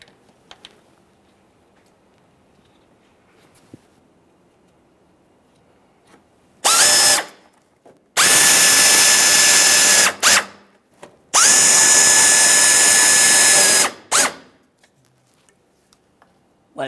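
A power drill or impact tool drives fog light mounting bolts on a 2009-2014 Nissan Maxima in three loud, close bursts of whirring after a quiet stretch, with brief pauses between runs.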